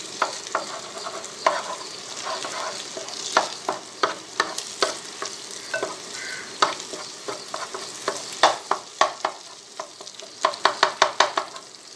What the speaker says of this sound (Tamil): இப்போ முட்டையை வதக்கிக்கலாம்.